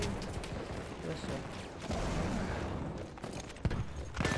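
Gunfire crackles through a Battlefield 1 match on the Fao Fortress map, with dense rapid shots and occasional sharper blasts over a busy battlefield rumble, and a player talks over it.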